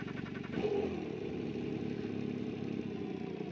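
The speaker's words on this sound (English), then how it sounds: "The starter motor's not even powerful enough to get it, let alone the engine powerful enough to move the car" Weak starter motor cranking the engine of a small communist-era car that struggles to start, with a steady clattering churn heard close and continuously.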